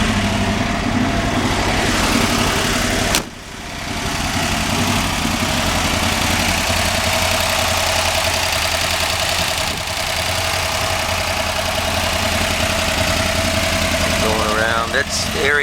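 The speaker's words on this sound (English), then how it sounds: "As you can see, the car starts right up." A 1957 Ford Fairlane 500 engine idles steadily and close, with a dense low rumble and one brief dip in level partway through.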